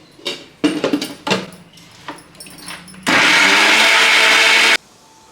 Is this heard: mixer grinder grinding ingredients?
yes